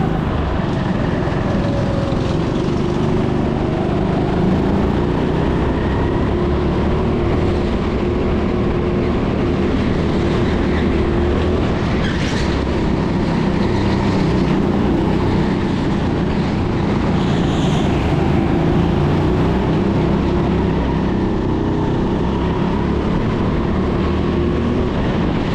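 Go-karts droning around an indoor track, a steady engine roar filling the space with no clear gaps, loud and continuous.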